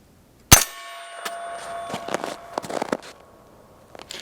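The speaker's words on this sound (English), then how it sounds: "There's a little bit of ringing going on" Single suppressed rifle gunshot through a Q Porq Chop suppressor with flash hider, a sharp loud report followed by a metallic ringing tail and a few scattered clinks over several seconds.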